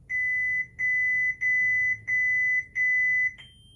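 A lightsaber hilt gives a rapid run of about six sustained high electronic beeps in quick succession, loud and close, marking its top volume level.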